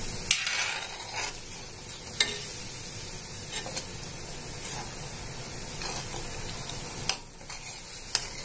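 Potato halwa stirred in a pan as it cooks in oil, a steady soft sizzle with a few sharp scrapes of the spoon against the pan spaced through, close and moderately loud.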